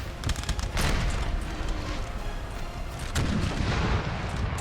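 Napoleonic cannon fire in a Napoleon: Total War battle, dense broadband booms and crackling volleys rolling continuously, with heavier blasts near the start and around the three-second mark amid a constant din of gunfire.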